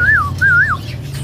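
A caged songbird at a bird kiosk gives two clear, loud, close whistled chirps in quick succession over a low steady background hum.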